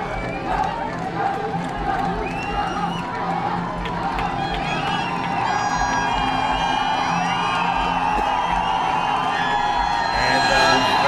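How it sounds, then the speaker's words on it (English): Football stadium crowd at an under-16 championship final in Bhutan, a steady roar of cheering, whoops and shouts filling the whole stretch, with a commentator talking over it. "And the crowd is going pandemonium here at the iconic Chung Limithang Football Stadium."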